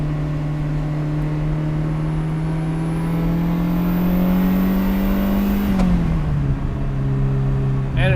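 A Ferrari 328 GTS engine pulls hard on a back road, its droning note climbing steadily and loud before dropping sharply at a gear change and carrying on at lower pitch.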